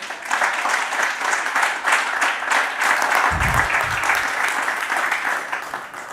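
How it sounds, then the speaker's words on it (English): Sustained audience applause at a corporate sustainability report launch in Kenya, honoring a keynote speaker, with steady dense clapping throughout and a brief low rumble midway. "another hearty applause for our keynote speaker"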